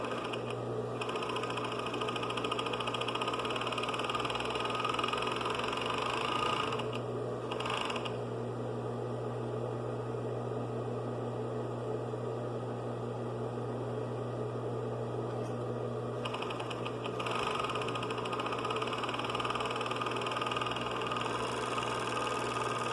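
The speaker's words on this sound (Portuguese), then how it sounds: "Agora ela tá pisando no pedal para subir o calcador, para daí então costurar." An industrial sewing machine with an overlock-style edge-trimming knife stitches and trims fabric, giving a loud, continuous mechanical whir with steady vibration that dips briefly twice before resuming, with no talking.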